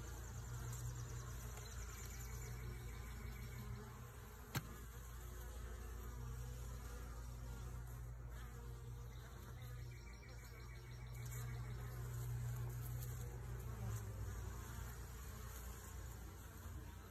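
Honeybees buzz steadily at the hive entrance, a dense continuous hum of many insects close by with no talking, one sharp click partway through.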